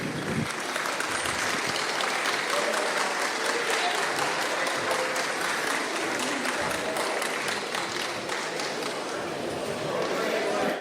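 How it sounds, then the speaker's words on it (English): An audience at a fan convention panel claps for arriving guests, with continuous full-room applause that stays loud for the whole stretch, with a few faint voices mixed in. "So can we start a round of applause for Hugh Spight and Femi Taylor, please?"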